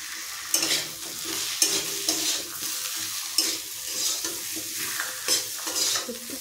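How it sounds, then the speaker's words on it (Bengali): Cooked dal seasoned with turmeric and salt fries in a pan while a spoon stirs it, a steady sizzle broken by repeated scraping strokes and light clinks, close and clear with no talking. "একটু ভাজাভাজি করি"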